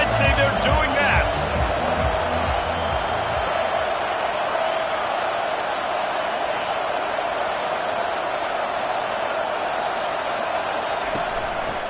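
A Madden 25 football stadium crowd roars as a steady, broad wash of cheering throughout, with a commentator's voice talking over it near the start.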